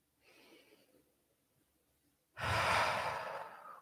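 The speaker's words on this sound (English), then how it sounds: "One more deep breath in and out" Deep breathing during a guided calming exercise: a soft inhale, a pause, then a long, loud, close exhale, with no talking.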